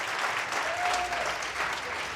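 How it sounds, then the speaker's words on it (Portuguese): Congregation applauding during a church anniversary revival celebration, a continuous wash of many hands clapping at steady volume, with a brief faint whistle-like tone in the middle. "Vamos aplaudir a Jesus pela Luciane."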